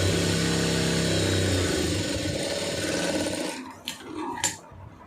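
A sewing machine runs steadily, stitching a quarter-inch seam through fabric with a loud continuous mechanical hum, then stops after about three and a half seconds, leaving a few faint clicks and handling sounds.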